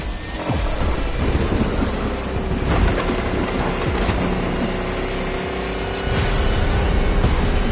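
A video-game thunderstorm rages during a drive through a tempest: heavy rain roars over deep rolling thunder and booming crashes, loud and constant, with an engine droning faintly beneath and no speech.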